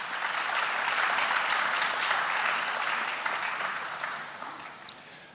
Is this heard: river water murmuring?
no